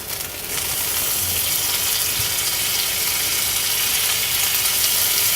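Butter sizzles and fries on a hot pan for an uttapam sandwich, a steady hissing crackle that starts up and holds evenly, close and without talk.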